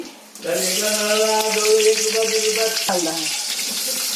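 Asafoetida and chilli hit hot oil in a pan with a sudden loud sizzle that bursts in and stays bright and crackling, with a clatter partway through. People talk over it.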